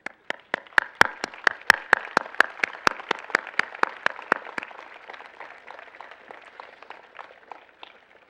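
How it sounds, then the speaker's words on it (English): Applause at a university convocation, with the graduating class standing to clap: sharp, distinct claps from a modest group, strong at first and thinning to scattered soft clapping over eight seconds. "I'm asking the graduating class if you'll stand and join me in applause for your invisible support"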